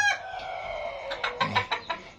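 Filipino chickens kept in pens on a poultry farm: a rooster's drawn-out crow, then a run of close, sharp clucks in quick succession.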